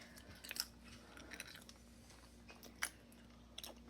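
Crunchy dried food from a Yashe food dehydrator chewed close up, soft irregular crunches and bites, faint and with no talking.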